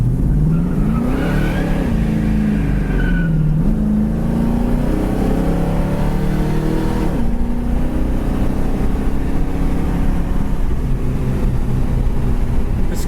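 A red 1969 Mercury Cougar muscle car with a 351 V8 drives past, its engine note climbing and falling through gear changes, then settling into a steady, loud drone with no talking.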